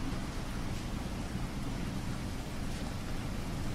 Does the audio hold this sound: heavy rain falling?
yes